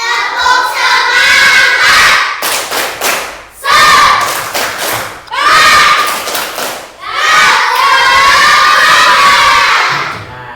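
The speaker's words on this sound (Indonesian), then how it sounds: "1, 2, 3. Tepuk semangat." A class of children performs the tepuk semangat spirit clap, loud rhythmic clapping bursts mixed with chanted shouts and cheering, repeated in several waves with short pauses between.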